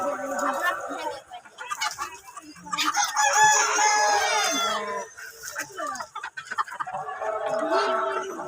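Chickens at a crowded gathering at the Atroshi shrine fair in Faridpur, clucking with a clear rooster crow in the middle, mixed with nearby voices and crowd noise throughout.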